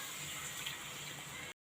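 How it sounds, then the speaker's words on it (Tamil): Water poured into a cooking pot while making a prawn gravy, a faint, steady splashing trickle that continues briefly and then cuts off abruptly, with no talking. "1 கப்பு தண்ணி ஊற்றிருக்கோம்."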